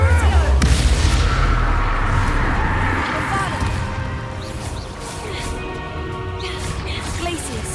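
Confringo fire spells exploding in Hogwarts Legacy during a dragon rescue battle: loud, dense booms and crashes stacked with rumbling impacts, with a voice shouting spell names over the din.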